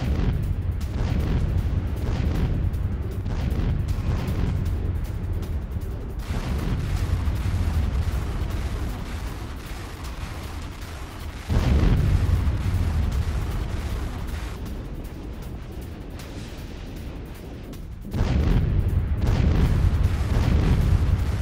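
Heavy booms and blasts from a Russian attack in Zaporizhzhia, Ukraine, rumble in deep repeated waves across news footage, with loud bursts around the middle and near the end and no talking over them.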